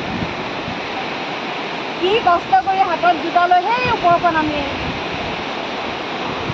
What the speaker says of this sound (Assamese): অৰুণাচল প্ৰদেশৰ দিবাং নদীৰ পানী চুবৰ কাৰণে